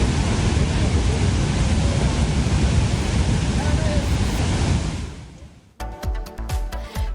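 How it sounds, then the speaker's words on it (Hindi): The swollen Beas River in flood during heavy rain in Kullu, a loud, dense, continuous roar of rushing water that fades out near the end, giving way to a short musical passage. "इस गोल घेरे के भीतर नदी का तेज बहाव है।"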